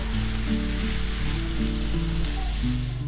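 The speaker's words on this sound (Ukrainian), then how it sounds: "Підсмажую до прозорості. цибульки." Onions sizzle in a frying pan, a steady close crackle that holds through the whole stretch, with a low hum and faint musical tones beneath and no talking.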